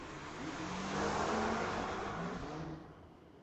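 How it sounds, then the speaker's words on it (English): A 2016 Subaru BRZ drag racing a Volkswagen on a street-legal drag strip: a loud engine roar builds, holds, then falls away as the cars pull off into the distance, with no talk. "'16 Subaru BRZ Tower Lane. Racing the VW in the other lane."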